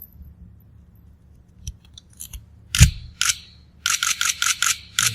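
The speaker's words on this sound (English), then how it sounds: "That's a loud shutter." A Nikon D3S camera shutter fires in loud, sharp clacks, a few single shots and then a quick rapid-fire burst, close and crisp with no talk.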